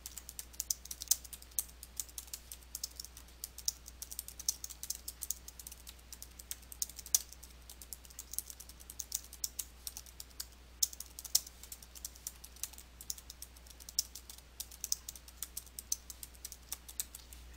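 Steady typing on a computer keyboard fills the stretch, a continuous run of light, quick key clicks at close range with no voices, as text is entered into a box in Photoshop Elements 2021.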